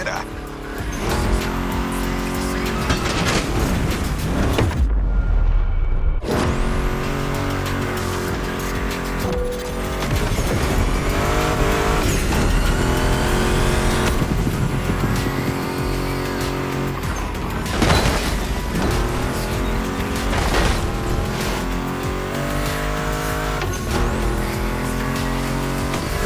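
Ford Mustang GT muscle car in the racing game The Crew Motorfest, its engine roaring loud and continuous with tire squeals and gear changes, blended with background music and a voice talking over it.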